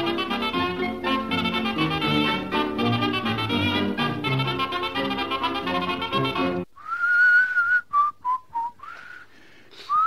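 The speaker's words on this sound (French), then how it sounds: "T'as fini de siffler." A person whistles a wavering tune alone, in short rising and falling phrases, after a stretch of dense music, in a French radio serial.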